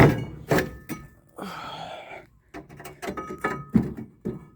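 Heavy square steel pieces salvaged from farm equipment are handled and set down in a garage, giving several dull, irregular thunks and clanks at close range, with short pauses in between.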